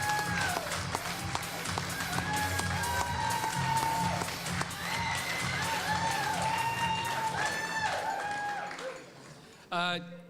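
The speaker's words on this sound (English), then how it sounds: "Give them a round of applause." Applause and scattered cheering ring out from a crowd at a gala dinner after an auction sale, moderately loud and continuous, mixed with chatter and a sustained musical tone before fading near the end.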